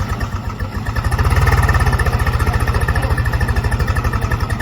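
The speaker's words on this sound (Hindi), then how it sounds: "आहिस्ते निकल रहा है भाई ट्रैक्टर" A tractor engine labours steadily while slowly pulling a stuck old Mahindra Thar 700 free off-road, its chugging pulse loud and close, rising slightly in intensity and holding a regular rhythm throughout.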